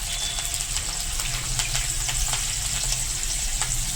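Cut green chillies sizzling in hot oil with cumin seeds in a pan, a dense, steady crackling fry with scattered sharp pops, close and continuous throughout.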